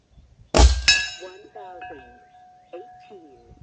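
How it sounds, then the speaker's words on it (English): An airgun slug strikes a steel gong 57 yards downrange on a windy day, giving a sharp metallic clang that rings out and decays, with a second ring and voices talking around it. "And here is a gong at 57 yards."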